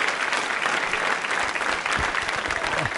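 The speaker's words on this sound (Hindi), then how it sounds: "तालियां जोरों से बजाइए सृष्टि जी के लिए" Loud, dense applause rings out for a contestant at a school quiz show, a continuous crackle of many clapping hands from the audience, with a few faint voices underneath.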